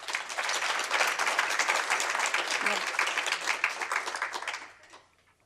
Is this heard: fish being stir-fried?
no